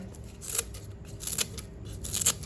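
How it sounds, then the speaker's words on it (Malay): Scissors snipping through pandan leaves in a series of crisp, close cuts, several quick snips repeating every half second or so, with no talking. "kemudian saya gunting"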